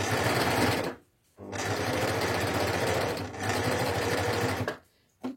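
A Baby Lock Ovation serger sews an overlocked seam for a Japanese-style hem in three loud, whirring bursts, with short pauses between them as the fabric is repositioned.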